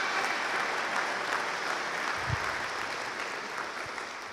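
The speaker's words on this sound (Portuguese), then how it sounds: "os soldados aplaudam ao general, o grande Senhor Jesus." A church congregation applauding for Jesus during a sermon, a dense, steady wash of clapping from many hands that holds at an even level for several seconds, with no talking over it.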